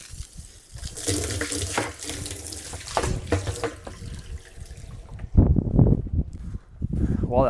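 Water runs steadily from an outdoor tap into a container for a chicken setup, a continuous splashing rush with someone talking over it.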